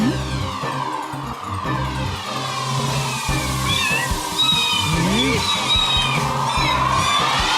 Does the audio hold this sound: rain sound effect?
no